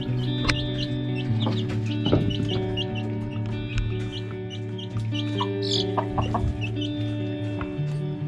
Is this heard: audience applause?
no